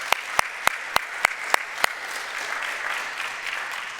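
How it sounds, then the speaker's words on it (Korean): A church congregation breaks into applause, opening with a few loud, sharp, evenly spaced claps up close before dissolving into a sustained wash of crowd clapping. "여러분 한번 박수해 주시겠습니까?"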